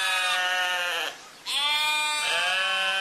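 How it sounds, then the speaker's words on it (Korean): A sheep bleats in two long, wavering, nasal cries separated by a brief pause, loud and close with no other sound. "먼저 양의 울음소리를 한번 우리가 보겠습니다."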